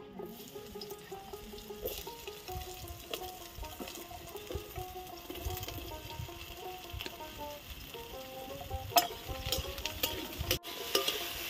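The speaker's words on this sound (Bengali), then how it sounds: "এবার আমি ঝিঙে আর আলুগুলোকে ভালো করে ভেজে নেব।" Ridge gourd and potato pieces frying in a pan, a steady close sizzle with occasional stirring scrapes and clatters throughout, no one speaking.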